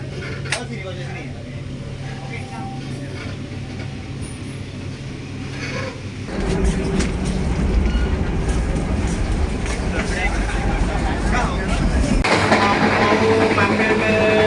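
A Kertanegara economy class train runs from Malang to Solo, its steady rumble and rattle growing louder partway through as the car rolls along, heard from inside the carriage with talking over it.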